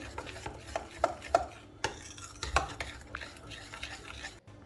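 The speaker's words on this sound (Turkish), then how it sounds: "Şöyle biraz karıştırıyorum." A spoon stirring sugar and olive oil in a bowl, a few irregular scraping and clinking strokes, close and fairly quiet, with no talking.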